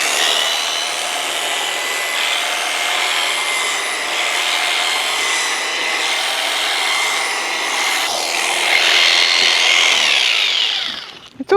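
Electric clippers shear an animal's coat, giving a steady, continuous buzzing whir that runs close and loud almost without a break and then cuts off at the very end.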